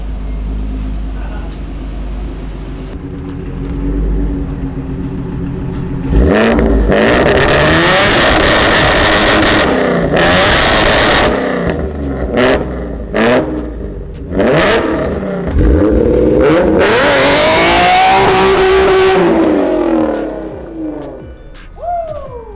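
A Nissan 350Z's VQ engine revs hard and repeatedly close by, with rising and falling bursts, sharp throttle blips and a raspy exhaust tone, then settles to idle.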